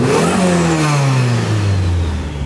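A car engine revving hard under heavy throttle during a tuning test, the pitch sweeping steadily as the revs climb and fall, loud and close with no talk over it.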